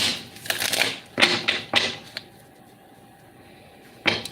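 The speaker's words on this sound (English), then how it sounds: "This card fell out while I was shuffling the deck waiting for your question." Tarot cards being shuffled in a deck: three quick riffling bursts close up, a short fourth snap, then a quiet pause and one more riffle at the end, with no talking.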